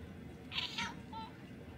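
A pet cat named Scarlett lets out a couple of soft, short meows at home, faint and close, over a low steady background hum.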